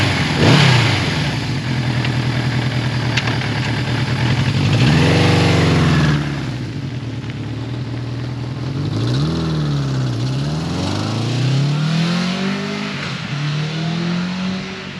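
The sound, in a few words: vintage Suzuki GS550T motorcycle riding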